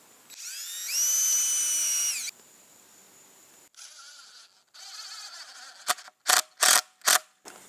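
A power drill drives screws into the roof of a firewood rack: a sustained high whine, a quieter lower run, then a series of short, sharp trigger bursts close by.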